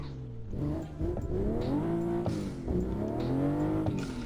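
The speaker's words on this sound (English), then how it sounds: "The game is called Assetto Corsa." A race car engine in the racing video game Assetto Corsa, played from a real car setup, revs loudly and continuously with pitch sweeping up and dropping at several gear shifts across a few seconds.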